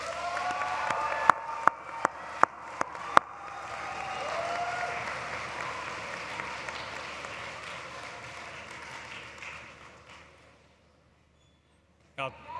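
A commencement audience at Stritch School of Medicine, Loyola University Chicago, claps in a large hall. A few sharp isolated claps build into a sustained round of applause that fades out, and a brief sound returns at the end.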